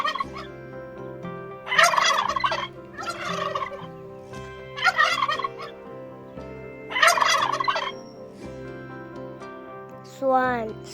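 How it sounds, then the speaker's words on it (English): Turkey gobbles sound in four loud, rapid rattling bursts spaced a few seconds apart, each over a steady background music bed, with a brief rising call near the end. "Turkey makes gobble sound."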